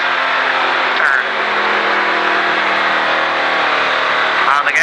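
A stock car engine drones steadily and loudly as the car accelerates around an oval race track, with a constant roar under a driving instructor's speech.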